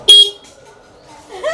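Two short car horn beeps, a bright sharp toot at the start and another at the end, with a quiet gap between them.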